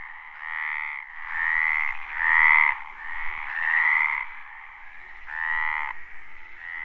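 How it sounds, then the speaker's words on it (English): A male tree frog croaks loudly in mating season in Monfragüe National Park, Spain, with a close, rasping call repeated in a steady run of about six pulsing bursts, alone without other sounds. "The male's tactic to attract a mate is to draw a female's attention by croaking as loudly as possible."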